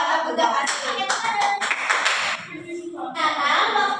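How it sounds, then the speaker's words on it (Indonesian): A classroom group claps hands together in a lively, ragged burst, the clapping rising and fading in waves with voices mixed in. "Kita kasih tepuk."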